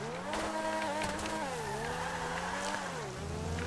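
Grotti X80 Proto hypercar engine in a racing video game, a high, steady revving whine with shifting pitch and crackling pops, sounding close and loud throughout with no talk.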